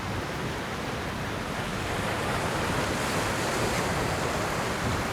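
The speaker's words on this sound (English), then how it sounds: "Too much wind" Strong coastal wind and heavy surf pound the rocks at a rock-fishing spot in huge swells, a constant loud roar of breaking waves and buffeting wind noise filling the whole stretch without letup.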